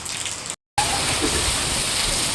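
Heavy monsoon rain pours down in a village, a dense steady hiss of drops on surfaces, loud and close, cut by a brief moment of silence before resuming.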